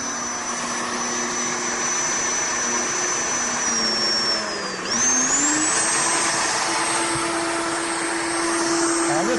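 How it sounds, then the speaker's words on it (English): A router spins at high speed with a loud, steady whine while cutting a wooden door panel along a template, its pitch dipping briefly under load and then rising again. "So we're going to turn the speed up on the router."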